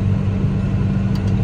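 A tractor engine drones steadily while driving along a road after working a muddy field, a loud, close, low rumble holding even throughout.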